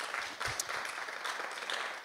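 Warm applause from a live audience at an outdoor stage show in Rotterdam, a steady dense patter of many hands clapping for the whole short stretch, with no voices over it.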